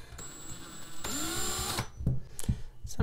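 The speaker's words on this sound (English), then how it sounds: "usually I just do a little drilling and add a little water, keep the drill bit from getting too hot" A power drill with a bit kept cool with water bores into a vintage ceramic dish, a loud whining spin-up that runs for under a second before stopping, followed by a few scraping knocks.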